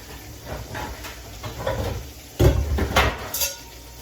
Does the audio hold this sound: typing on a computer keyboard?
no